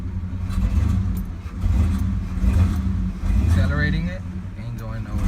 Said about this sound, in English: Accelerating it, ain't going nowhere